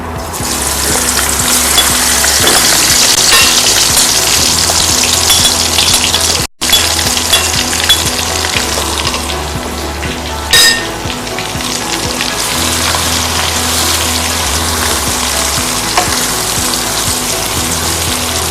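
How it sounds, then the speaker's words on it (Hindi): Ingredients fry in hot oil in a handi pot with a loud, steady, close sizzle that runs almost nonstop. A brief break comes partway through, and there is some faint stirring. "बस हल्का सा भूनेंगे और ये तैयार है।"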